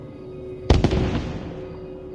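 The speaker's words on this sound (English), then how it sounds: "Here you have to climb a tower and set off a firework to signal the mercenaries to fight." In Assassin's Creed II, a single firework goes off with a sharp bang and a quick second crack, followed by a rumbling, fizzling tail that fades over about a second.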